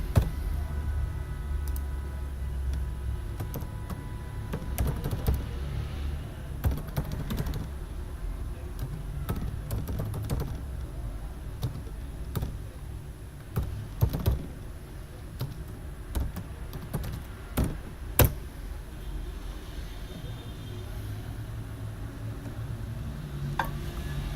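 Computer keyboard keys tapped in irregular bursts, soft close clicks under a low steady background hum, typing a command line, with no talking.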